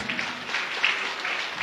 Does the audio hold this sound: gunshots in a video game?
no